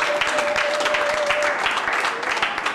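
A church congregation claps together during a service, dense continuous applause filling the room from start to finish, with a faint sustained tone running beneath it.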